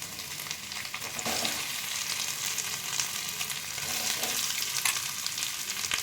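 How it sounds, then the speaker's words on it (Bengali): Boiled potato frying in a pan with asafoetida, ginger and cumin, a steady broadband sizzle running throughout with occasional stirring scrapes, close and moderately loud, no voices. "আলু সিদ্ধটা আমি একটু দিয়ে দিচ্ছি"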